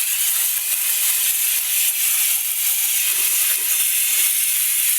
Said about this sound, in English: See, I'm spraying down my alternator